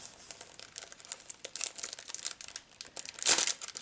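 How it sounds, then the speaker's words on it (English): A thin plastic sheet printed with pictures for resin crafting crinkles softly while being handled, a stream of quiet crackles and rustles with a sharper crinkle near the end. "it's a thin plastic sheet with these pictures on that you can use in resin"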